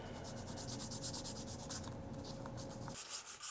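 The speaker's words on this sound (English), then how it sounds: "now we're going to smooth it out a little bit with some sandpaper. I think this is 320 grit." A violin bridge is rubbed against 320 grit sandpaper in quick, rhythmic back-and-forth strokes, a close, dry rasping that stops abruptly near the end.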